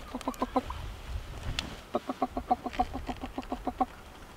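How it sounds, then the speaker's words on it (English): Chickens cluck in short rhythmic bursts, a quick run of clucks, a pause, then a longer steady series, fairly close and moderately loud. "Chickens running all over the place over here."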